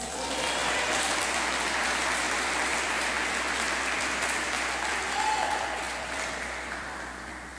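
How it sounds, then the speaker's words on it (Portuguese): A large church congregation applauding steadily, dense and loud throughout, tapering slightly near the end. "Pode aplaudir Jesus."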